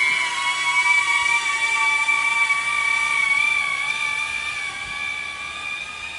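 Aquila20 FPV drone motors flying, a continuous high-pitched whine with steady harmonic tones that waver slightly in pitch, loud and close, slowly fading as it moves away, with no talk.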